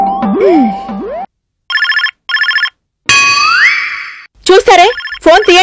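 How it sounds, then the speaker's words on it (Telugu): An electronic phone ringtone in a Telugu TV comedy episode plays loud, varied chirping and warbling melodic bursts separated by short gaps, with no voices over it. "చూస్తారే, ఫోన్ తీయండి మీకే."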